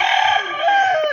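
A backyard chicken gives a short, bright clucking call lasting about a second, loud and close, with no voices around it.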